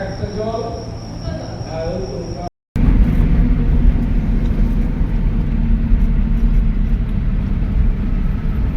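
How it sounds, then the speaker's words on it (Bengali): A vehicle drives along a highway at night, a steady loud road and engine rumble that starts after a brief dropout and continues without a break. Talk is heard in the opening seconds before the cut. "তো বন্ধুরা আমরা এই মুহূর্তে হাইওয়ে ধরে নিয়েছি"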